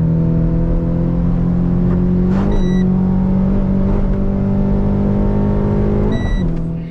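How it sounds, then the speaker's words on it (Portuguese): A car engine revs and holds a steady high pitch while the car aquaplanes through standing water, with a loud continuous drone and two brief rises in pitch near the middle and the end. "vocês conseguem principalmente escutar o barulho do giro do motor subindo"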